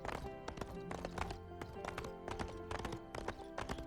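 Bullseye the horse gallops in the Toy Story 3 video game with rapid, rhythmic clip-clopping hoofbeats close up, over a bright musical backdrop.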